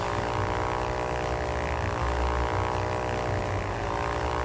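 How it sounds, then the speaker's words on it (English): A propeller airplane engine in the flight game Ultrawings drones steadily, a constant buzzing hum with a low throbbing pulse that holds level throughout. "the sound of the engine, ugh, it's the only thing I'm not digging"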